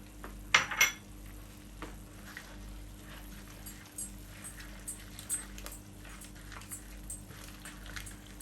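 Mango chutney with salt, chili and cumin is stirred in a pan, a quiet low cooking hiss broken by soft scrapes and a few sharper clinks of utensil on metal, one louder knock near the start.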